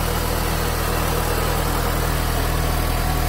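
A 2004 Honda Civic engine idles steadily with a replaced alternator, a close, even mechanical hum with low pulsing vibration and no talk.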